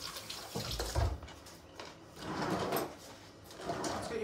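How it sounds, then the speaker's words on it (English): A kitchen tap runs while hands are washed, with splashing water in bursts and a brief knock near the start, close and moderately loud. "Wash your hands with soap, actually, Hamish."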